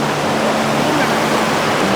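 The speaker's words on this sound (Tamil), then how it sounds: "ஏய் ஃபால்ஸ் பாரு எவ்வளோ தண்ணி." Hebbe Falls in Chikmagalur in full monsoon flow: a dense, steady roar of rushing water, loud and unbroken throughout.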